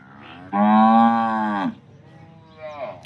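A local Banaskantha cow lets out one long, loud moo up close, followed shortly by a softer, shorter second moo.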